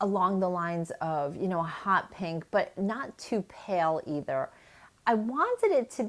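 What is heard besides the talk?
None of the usual background noises is heard.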